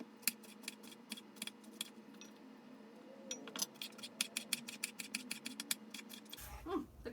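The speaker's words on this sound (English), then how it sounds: "I gotta cut them in half" A knife clicks quickly and repeatedly against a cutting board while long skinny pickles are cut in half, giving faint, crisp taps in an uneven rhythm.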